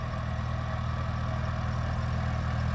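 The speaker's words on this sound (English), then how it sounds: "It's the best sounding Cub I've heard." A Farmall Cub tractor engine runs at a steady idle, a smooth continuous low hum with even pulsing, close and constant throughout without voices.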